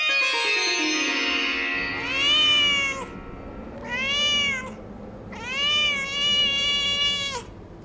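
Two cats in a Panchatantra story meow loudly one after another, with long drawn-out cries rising and falling in three distinct bursts over a steady background.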